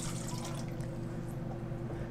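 Liquid poured into a measuring cup while measuring ingredients in a kitchen, a steady continuous splashing stream running close and fairly quiet throughout, with no talking.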